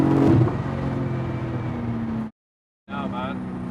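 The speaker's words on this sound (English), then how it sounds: "That was almost like there was no dip in the revs into third." A 900bhp Porsche Turbo on semi-slick rear tires revs hard and shifts into third gear without a dip in revs, a loud sustained engine drone cut briefly by a near-silent gap, then rising again.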